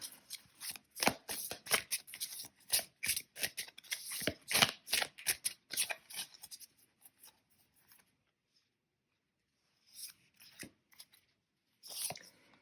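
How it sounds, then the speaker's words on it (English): Samhain Oracle cards riffle-shuffled in quick rhythmic bursts, loud and close for about eight seconds, then a pause and a couple of brief card snaps as cards are drawn. "I will also be drawing a card from the Samhain Oracle as a final word on this reading."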